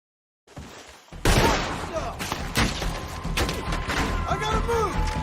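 Rapid gunfire from a Red Dead Redemption 2 shootout, dense volleys of loud shots and thuds that start after a brief silence and continue without a break, with shouting voices over the din.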